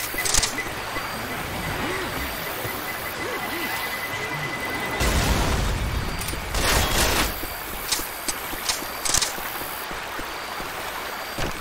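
A grenade explodes in the zombie shooter game Left 4 Dead 2, a loud burst around the middle followed by further crashing blasts and scattered gunfire over a continuous rushing stream-like background, with a voice shouting over it.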